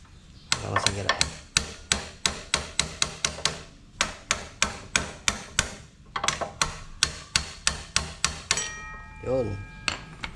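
Rapid, evenly spaced hammer taps ring out close against a worn, sticking disc brake in two long runs, then stop as a voice speaks briefly at the end.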